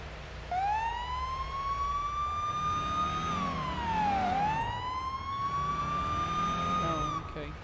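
A police car siren in the game Police Simulator: Patrol Officers wails in long rising and falling sweeps over engine rumble, loud and close for several seconds before stopping.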